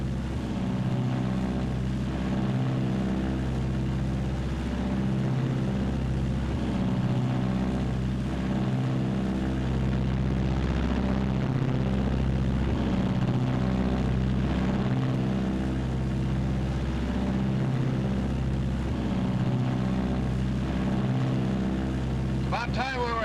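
A B-26 bomber's propeller engines drone in flight, a loud steady low roar with a pulsing rhythm that runs throughout, with no speech over it.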